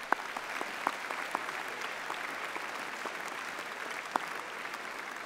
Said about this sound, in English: So I think that deserves another round of applause.